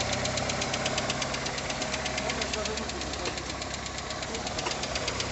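The 1.8 engine of a 1989 VW Golf 2 with an automatic gearbox and a Pierburg carburetor runs cold at a steady idle, its rapid ticking knock close and continuous with no change in pace.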